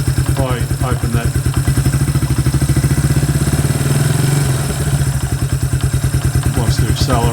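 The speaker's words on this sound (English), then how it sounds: "Now it seems quite happy to idle with the choke right off." A Suzuki Quad Runner 250 ATV engine idles steadily with the choke off, its loud, even putter filling the clip while someone talks over it.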